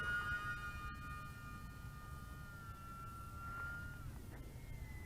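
An OMPHOBBY T720 four-channel EPP trainer RC airplane's electric motor runs at full throttle as a steady, high whine with gradually shifting pitch, heard from a moderate distance over outdoor background noise.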